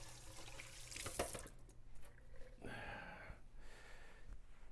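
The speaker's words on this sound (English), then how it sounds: "I'm going to wash my hands off and some soapy water that I have here." Hands are washed with soapy water under a running kitchen tap while cooking, a steady close rush of water with splashes and sloshes as the hands move, no talking.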